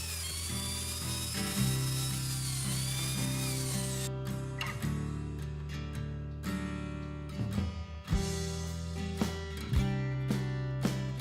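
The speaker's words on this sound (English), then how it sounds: "Then I sanded the cut-off letters using belt sander with 120 grit sandpaper." Steady loud whine of a belt sander with 120-grit sandpaper running continuously on wooden letters, its pitch shifting as the work presses against the belt, with a few gritty grinding bursts.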